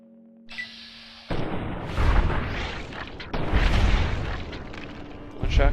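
Gunshots in the video game Fallout: New Vegas, two heavy, booming shots a couple of seconds apart, each with a rumbling tail, following a quiet opening with faint tones.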